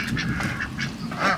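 Ducks quacking at a low-cost backyard poultry coop shared with chickens, several fairly close, honking quacks coming in quick, irregular bursts with no talking.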